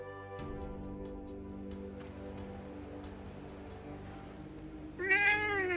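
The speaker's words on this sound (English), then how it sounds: "Hey, that cat." A single drawn-out cat meow rises clearly near the end, over a steady background of Forspoken game music with a sustained low drone.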